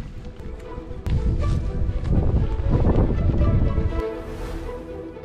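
Strong wind blowing across a hilltop campsite at Morro dos Muller, buffeting the microphone with a loud rumbling gust in the middle that eases off toward the end.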